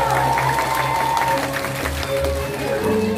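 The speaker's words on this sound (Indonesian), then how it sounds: "Tepuk tangannya dulu dong." An audience at a Balinese drama gong performance applauds with a dense, continuous wash of clapping over about three seconds, mixed with a sustained tonal instrument line and faint crowd noise.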